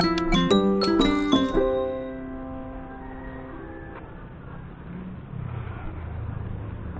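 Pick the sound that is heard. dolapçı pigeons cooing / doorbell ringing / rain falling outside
doorbell ringing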